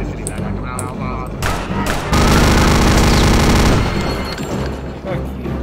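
Loud, dense automatic gunfire from the Return to Castle Wolfenstein shooter (RealRTCW), rattling bursts that swell into a heavy, booming volley midway before easing back into sustained fire.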